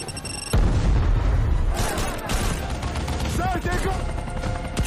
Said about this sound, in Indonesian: tiba-tiba terjadilah ledakan di daerah si